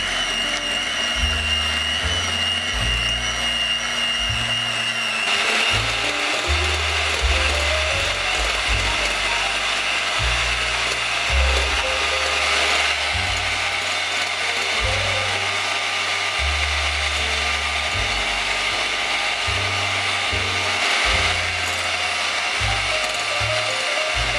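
Three eggs are being beaten with 90 g of sugar and a pinch of salt by an electric mixer. It makes a continuous loud whirring, grinding buzz, with the motor pitch stepping up and down in irregular bursts.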